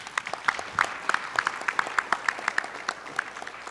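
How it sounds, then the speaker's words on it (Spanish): Applause from an audience at a weekly school assembly, moderately loud, with individual claps and a fairly steady rhythm and no talk over it. "Así que un aplauso para ellos"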